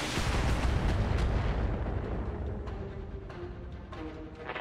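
Heavy mech weapons fire pounds an Orion mech in BattleTech, a dense, continuous barrage of booming impacts and bursts that stays loud throughout, with no talk over it.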